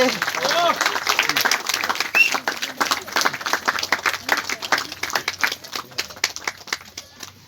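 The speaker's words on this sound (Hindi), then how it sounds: "ताली बजाएंगे।" Guests clapping at a Santali wedding, brisk and uneven, with voices mixed in and chatter over the steady claps.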